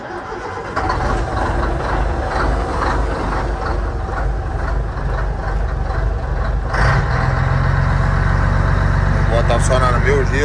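A heavy Scania truck engine idles loudly and steadily with a deep rumble, rising slightly in pitch partway through, while a person talks over it.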